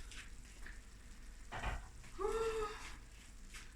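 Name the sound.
potatoes added to a pan, sizzling and frying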